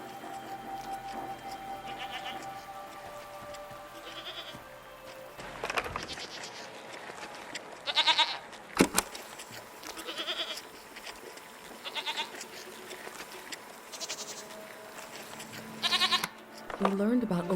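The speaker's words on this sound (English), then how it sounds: "What are these strange goat-like creatures? Are they simply goats?" Goats bleat in repeated short calls spaced every couple of seconds over open countryside, fairly close, with a steady background hum and a faint voice near the end.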